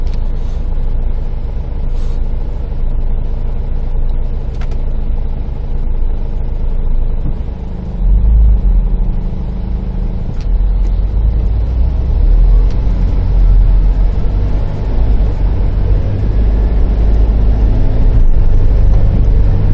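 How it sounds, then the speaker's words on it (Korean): A steady low engine rumble and vibration inside a 2009 Kia Grand Carnival in drive, with the drone deepening and growing heavier partway through, continuous and close. "원래 드라이브에서는 소리가 더 좀 진동 소음이 심하잖아요."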